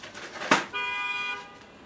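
Car horns in the street, one sustained blare lasting about half a second, heard outdoors at night after a short sharp click.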